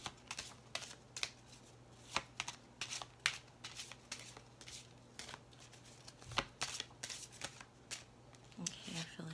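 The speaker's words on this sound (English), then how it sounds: "So let's just get, okay, a good shuffle on each of these sections." Oracle cards are shuffled repeatedly at close range, a rapid series of soft flicks and riffles with brief pauses between bursts.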